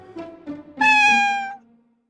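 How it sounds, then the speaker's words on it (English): A cartoon cat meows in short rising calls, then lets out one long, loud, drawn-out meow that fades, heard close with no talk. "Meow yourself."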